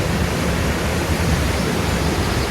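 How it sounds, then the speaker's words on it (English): High Force waterfall plunges 21 metres into the River Tees in Upper Teesdale, a dense, steady roar of falling water that fills the whole sound close up and loud, with no pauses or talking. "take a look at the waterfall in all its beauty, it's dropping down 21 metres into the River Tees here"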